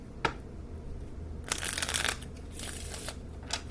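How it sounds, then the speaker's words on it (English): A deck of cards is shuffled in several bursts of papery riffling and flicking, close and crisp, with short pauses between attempts. "My cards aren't shuffling right."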